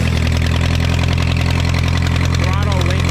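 An Oliver Super 55 tractor from an auction idles with the throttle off, a loud, steady, low engine rumble close up, with a voice speaking over it.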